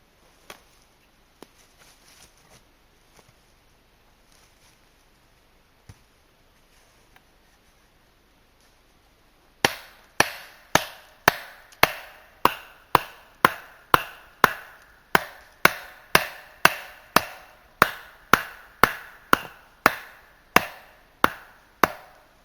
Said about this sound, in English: So we're going to stake the first one in.